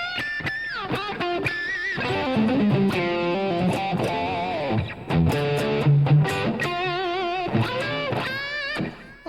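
Electric guitar played through effects on a Spark amp, sustained distorted notes and chords ringing with modulation, loud and continuous with occasional picked attacks.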